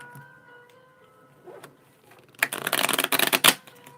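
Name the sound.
shuffling a small tarot card deck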